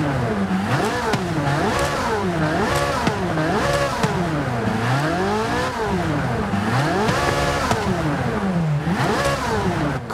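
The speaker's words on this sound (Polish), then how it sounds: "Kompletnie inny ten dźwięk jest." A Corvette C8 Z06 engine in Forza Horizon 5 revs repeatedly in neutral, rising and falling in quick, aggressive sweeps that fill the whole stretch without pause.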